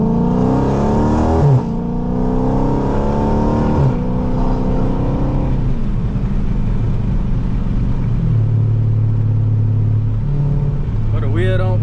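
Straight-piped Dodge Scat Pack V8 roaring loudly from inside the car, engine revving and climbing through gears with shifts, a deep harmonic rumble throughout, with talking mixed in.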